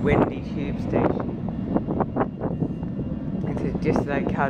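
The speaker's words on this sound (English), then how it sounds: "Really nice, grotty, and quite windy." Wind gusts through an old, grotty London Underground tube station platform, a steady broadband rumble and rush with fluctuating swells throughout, close and fairly loud.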